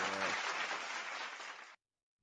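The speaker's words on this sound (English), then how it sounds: "we can give him a round of applause anyway" A short burst of applause for a departed interview guest on a call, dense and fairly close, fading slightly before cutting off sharply to silence.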